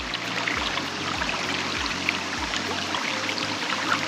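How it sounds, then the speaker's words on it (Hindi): Clear river water streams and trickles steadily over smooth, slippery stones at a riverside resort in Lansdowne, with a continuous close, bright rushing wash and no voices. "देखिए कितना साफ़ पानी आ रहा है।"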